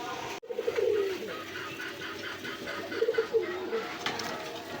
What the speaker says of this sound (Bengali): দেখেন এগুলো হচ্ছে ব্ল্যাক রেসার কবুতর